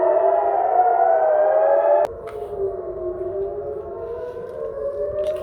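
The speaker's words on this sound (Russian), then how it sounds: "Над ним воет сирена." An air raid siren wails over the city of Ashdod, Israel, during a rocket attack, a loud sustained rising and falling tone that drops in pitch partway through and keeps droning without talk.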